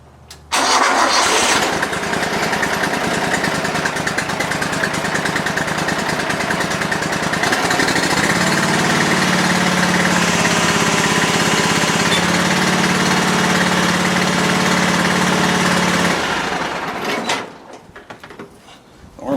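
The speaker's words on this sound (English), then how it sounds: "Now go ahead and start the motor and let your arms down." A ZG23 mower motor cranks and catches, then holds a loud, steady idling drone for several seconds before cutting off, close by with no voices over it.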